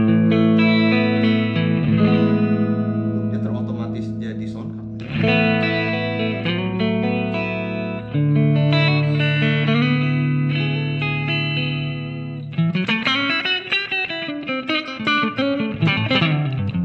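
Electric guitar played through a clean preset on a Valeton GP200 multi-effects pedal, strummed chords and arpeggiated notes ringing clearly with slight chorus and reverb shimmer, close and alone, with a bending passage at the end.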